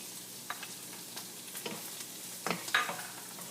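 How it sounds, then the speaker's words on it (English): Garlic and onion sauté in a pan for a vegan menudo, with a soft steady sizzle and a few light scraping stirs, close and fairly quiet. "to saute my garlic. Put the garlic. And add my onion."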